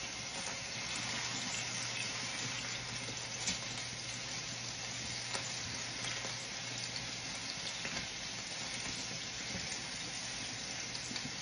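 Salisbury steak patties sizzle and hiss steadily in a hot pan while being flipped, a constant broadband frying noise at low level, unbroken and without talk.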